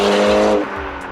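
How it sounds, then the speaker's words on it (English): An Audi A4 B8 with a big turbo and an AWE Touring catback exhaust gives a loud, droning exhaust note that drops abruptly to a lower rumble partway through. "I've never had a car that sounds this good"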